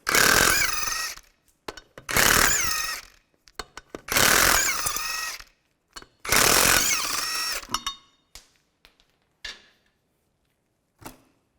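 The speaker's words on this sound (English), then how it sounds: "19mm socket, take the lug nuts off." An impact wrench on a 19mm socket zaps lug nuts off a 2005-2010 Chevrolet Cobalt wheel in four loud, close bursts of about a second each, followed by scattered clicks and clinks of loosened hardware.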